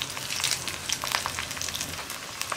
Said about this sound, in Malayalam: ഇനി ഇതെല്ലാം നന്നായിട്ടൊന്ന് വഴന്ന് വരുന്നത് വരെ നമ്മൾ ഇളക്കി കൊടുക്കുക